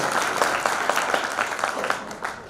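An audience claps together at a Padgrahan Samarambha installation ceremony in 2022. The claps land in a fairly even rhythm throughout, close and steady, with no talking over them.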